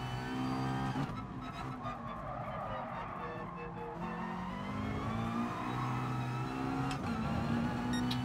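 Race car engine in GT Sport, a steady loud roar with rising and falling revs and gear changes throughout, holding a continuous high drone with no break.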